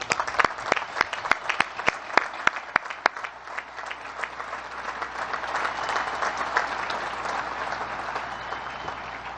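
A large graduation-ceremony audience at the Naval Academy applauds the class of 1969, with loud sustained clapping that starts with distinct individual claps and swells into a dense, even roar.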